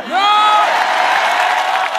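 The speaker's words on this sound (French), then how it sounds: "Oh, vous n'applaudissez même pas." A church congregation at an evangelistic gathering in Abidjan breaks into loud applause and cheering, opening with a rising whoop before settling into a sustained, full wash of clapping from a large crowd.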